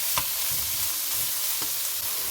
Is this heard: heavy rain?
no